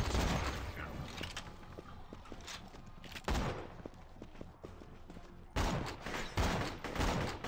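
Rapid bursts of slag gun fire in a video game, sharp repeated shots in rolling volleys with brief gaps and louder clusters toward the end.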